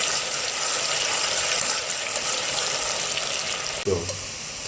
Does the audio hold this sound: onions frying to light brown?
yes